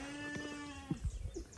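Sheep bleating during tooth checks in a livestock pen, with a long steady bleat then shorter broken cries close by, no talk over it.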